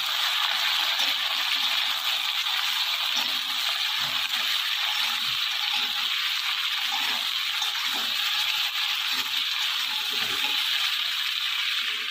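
Potato, pointed gourd and mixed vegetables frying in a pan, giving a steady, dense hiss and sizzle that runs unbroken throughout, close and fairly loud, with no talking.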